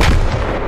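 A grenade explosion in the military shooter Squad, one loud, close, booming blast that fills the short moment with a dense roar.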